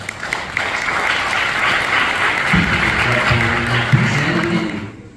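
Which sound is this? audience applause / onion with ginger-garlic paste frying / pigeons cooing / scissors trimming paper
audience applause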